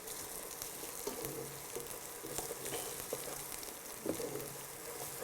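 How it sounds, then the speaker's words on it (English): Finely chopped vegetables sautéing in a pan for jeera vegetable rice, a faint, continuous crackling sizzle with light stirring scrapes, heard alone. "Just let them saute for a few seconds"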